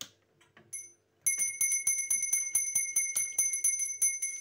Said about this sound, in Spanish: esta campana va bien